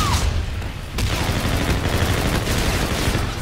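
Rapid automatic gunfire in Call of Duty: Infinite Warfare, a loud, dense fusillade of shots rattling continuously for a few seconds with booming low thuds.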